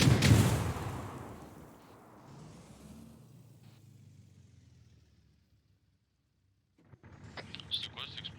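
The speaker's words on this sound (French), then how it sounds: "C'est quoi cette explosion?" An IED explosion in a military video game: a loud, sharp blast at the start whose rumble decays over several seconds into near silence, followed by fainter clatter and voices.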